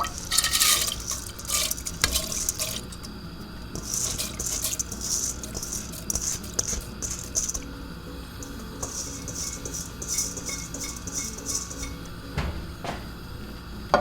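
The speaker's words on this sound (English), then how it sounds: "rinse the rice" Rice being rinsed in a pot under running water, with splashing, trickling and swishing of grains against the pot, close and soft, with no talking.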